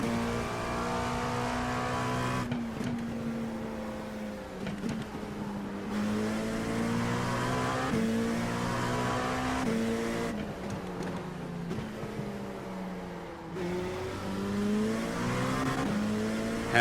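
LMP2 prototype race car engine in iRacing at Imola, heard from the cockpit during multi-class racing, a loud high-pitched engine note rising through the gears with sharp upshifts and brief lifts, continuous and close.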